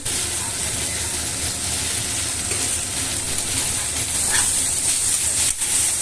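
Garam masala sizzles loudly in a hot pan while being stirred for a matar paneer dish, a dense continuous hiss with occasional scraping clicks and no talk.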